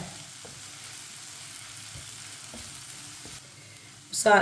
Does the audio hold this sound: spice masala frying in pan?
yes